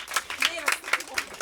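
An audience at a debate competition final applauds, a short burst of scattered, fairly close hand claps with a voice speaking over it.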